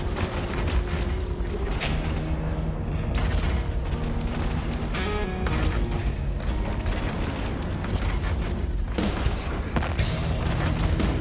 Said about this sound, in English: These guys are just eating these missiles